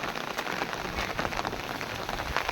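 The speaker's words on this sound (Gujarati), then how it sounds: "વરસાદ અટાણે હજી ચાલુ જ છે" Steady rain falls on surfaces in a Gujarati village, a dense, even patter of drops that stays close and unbroken throughout, with no voices.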